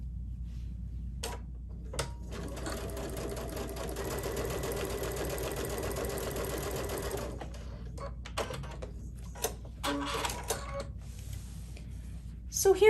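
Sewing machine stitching quilt binding at a 3/8 inch seam, a steady close mechanical hum running for several seconds with softer ticks and handling clicks around it.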